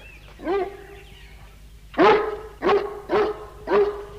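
A dog barks five times, one softer bark followed after a pause by four loud, close barks in a quick uneven rhythm, with no talking over them.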